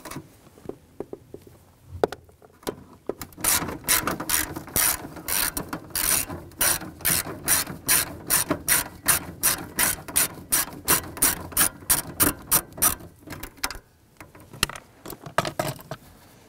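A ratchet loosens 7 mm screws on a 1993–1997 Ford Ranger panel, giving a close, rapid run of sharp clicks in steady strokes that pause briefly before a few more clicks.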